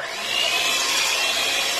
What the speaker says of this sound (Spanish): Continúo batiendo.